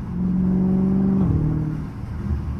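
Dodge Charger 392 Scat Pack V8 with a deep, steady engine drone heard from inside, holding a low rumbling note before the pitch drops and settles back toward idle.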